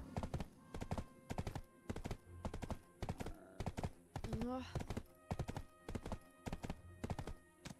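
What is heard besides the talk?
horse hooves clip-clopping in the video game Black Desert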